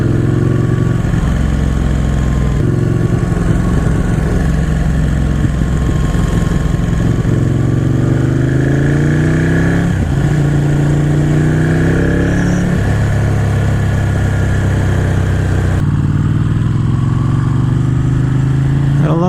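Ducati naked motorcycle engine pulling hard in third gear on a scenic road ride, loud and steady with rising and falling rev sweeps, wind rush throughout, no talking.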